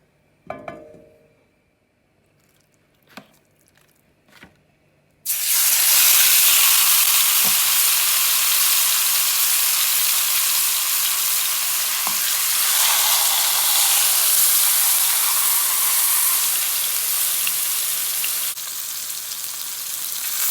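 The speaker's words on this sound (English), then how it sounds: "We're not frying this, we're just quickly browning it." A few quiet clicks and knocks, then beef hits hot olive oil for browning and a loud, steady sizzle takes over and continues for a long stretch.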